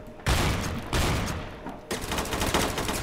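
Rapid bursts of gunfire in Roblox Phantom Forces, a player firing from the hip with no aiming, three dense volleys in a row, loud and close, with no voices.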